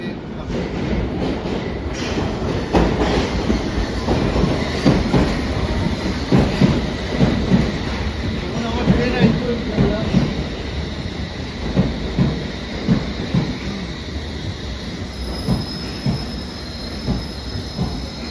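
An underground train rumbles past on the rails with rhythmic clatter and occasional wheel squeal, loud and close, continuing throughout.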